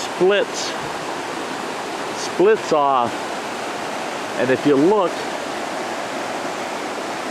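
A river rushes steadily past an island after heavy rain, giving a constant broad roar of moving water, with someone talking briefly in bursts over it.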